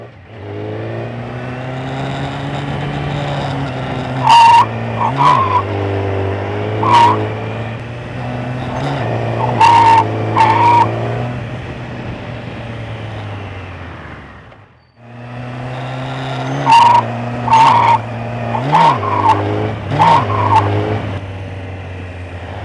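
A motorcycle brakes hard with the throttle and front brake overlapped. The engine revs and drones in two passes, with repeated sharp squeals and bursts over the motor, broken by a short lull.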